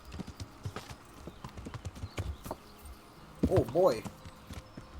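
Horse hooves clip-clopping at a walking pace in the video game Kingdom Come: Deliverance, a steady run of close, hollow hoof beats, with a man briefly exclaiming near the end.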